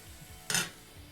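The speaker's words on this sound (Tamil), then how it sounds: "இப்போ இதை மூடி வச்சிடலாம்." A metal lid set onto a cooking pot of simmering broad beans: a single short, bright metallic clink, moderately close, in an otherwise quiet kitchen.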